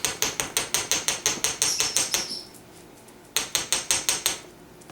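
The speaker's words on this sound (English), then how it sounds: "You can always keep hammering it so it does not come apart on you whatsoever." A small hammer strikes metal wire being shaped into a wire-wrapped wave necklace, a rapid run of sharp, evenly spaced metallic taps, a short pause, then another quick burst of close, bright hits.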